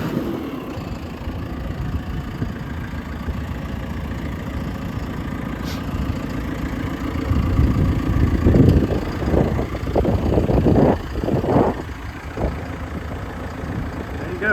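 A 2019 JCB 3CX backhoe loader with cab, 4x4 and extendable hoe runs steadily at idle nearby, a low continuous diesel rumble that swells slightly toward the end.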